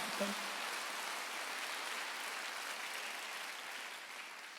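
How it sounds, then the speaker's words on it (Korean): A church congregation applauds in a steady, dense wash of clapping that fades slightly over several seconds, with a brief voice at the start. "박수로 나와 주시기 바랍니다."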